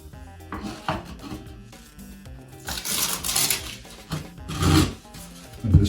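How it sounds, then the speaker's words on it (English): A piece of tile scrapes and rubs adhesive onto the backs of bathroom wall tiles during a refurb, producing close, uneven rasping strokes that swell and fade with each pass. "this piece of tile here just makes it easier to spread the adhesive into the back of these tiles"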